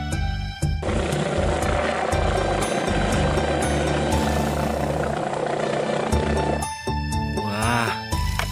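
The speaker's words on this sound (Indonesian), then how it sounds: "Helikopter." A toy helicopter whirs continuously with a loud buzzing rotor drone close to the listener, briefly cutting out and then restarting near the end.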